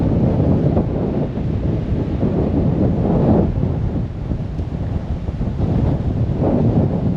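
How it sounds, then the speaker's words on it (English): Strong wind buffets the microphone with a continuous roar while ocean surf churns beneath, gusting harder in waves along the Jamaican coast in the hours before Hurricane Melissa; no talking. "the wind is absolutely picking up"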